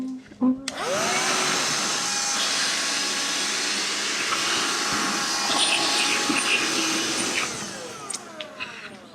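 A Black & Decker Dust Buster handheld vacuum switches on and runs as a steady, close whine while sucking up a line of crumbs, then winds down with a few clicks at the end.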